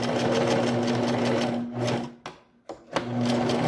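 A sewing machine runs in reverse stitch with a steady, close motor whir and rapid needle drone, then briefly stops and restarts with short bursts.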